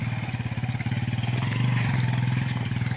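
A motorcycle engine runs on a rural farm outing, its rapid, even thumping pulse steady and close, with a slight rise in intensity partway through and no talk over it.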